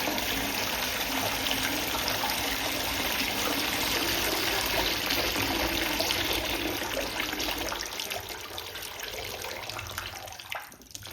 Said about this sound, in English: I'm just going to drain the water out.